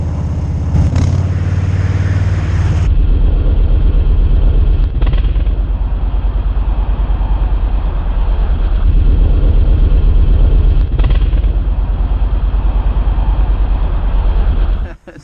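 A motorcycle engine idles loud and close, rumbling steadily, and the throttle is blipped in a quick burst near the start before it settles back to an even drone until it cuts off at the end.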